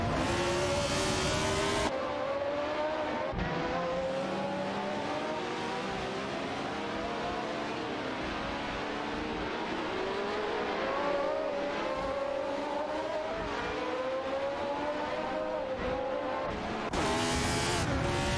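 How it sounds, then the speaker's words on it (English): Ferrari 312T race cars in a racing video game scream past at high revs, engine notes rising and falling through gear changes with occasional tyre squeal, loud and continuous throughout. "Both are navigating their Ferrari 312T models in a heated contest for the position."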